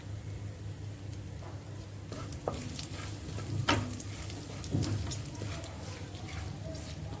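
Mallow leaves (saag) dropped into a hot pan with asafoetida, giving a steady close sizzle and frying hiss with a few stirring clatters, continuous throughout.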